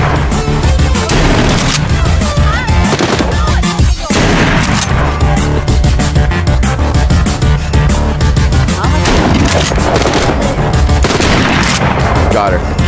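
Loud, close shotgun blasts and heavy booms repeat in the VR video game The Walking Dead Saints and Sinners, set amid dense continuous combat noise with a voice talking over the gunfire.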